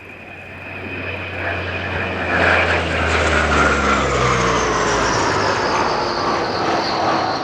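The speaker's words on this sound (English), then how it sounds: "The Dassault Atlantique ATL2." A French Navy Dassault Atlantique ATL2 maritime patrol aircraft makes a flying display pass at an air show, its turboprop engines droning loud and close, swelling over several seconds with a steady propeller hum and a shifting pitch.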